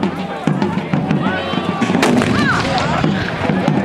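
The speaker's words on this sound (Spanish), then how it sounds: "se venían oyendo los cañonazos de la división de don Manuel de la Peña" Booming cannon fire at an outdoor reenactment of the Battle of Bailén, with loud reports rolling through a noisy crowd. People talk and shout throughout.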